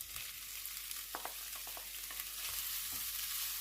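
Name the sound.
chorizo and red pepper frying in a pan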